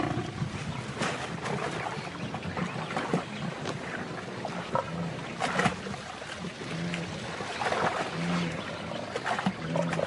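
A lioness brings down a gnu on the savanna, and the scuffle comes through as a steady wash of rough, rumbling noise broken by a few sharp thuds and growl-like bursts, with no voices.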